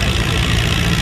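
An antique tractor's engine labours under load at a tractor pull, a loud, steady low rumble with no pauses.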